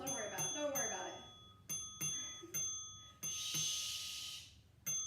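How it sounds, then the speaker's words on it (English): A bell rings in short, bright strikes, several separate dings with one longer ringing burst, in a workout class. A voice speaks at the start. "Don't worry about that bell"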